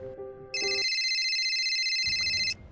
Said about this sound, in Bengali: এই সময় আবার ফোন দেয় কারা?